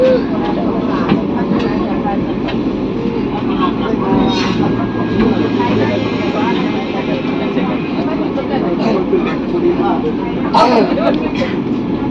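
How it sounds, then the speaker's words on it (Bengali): Rumble and rattle of a Vande Bharat Express train running along the tracks, a steady loud low roar filling the whole stretch with some high squeals, and people talking faintly over it. "চলছে ট্রেন"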